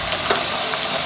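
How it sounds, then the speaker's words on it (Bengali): Chopped onion, cinnamon and cardamom sizzle steadily in hot oil at the start of a chicken biryani, a dense, even hiss that stays close and loud throughout with no voices. "এর জন্য প্রথমে দিয়ে দিলাম দারচিনি, এলাচ, দিয়ে দেবো পেঁয়াজ কুচি"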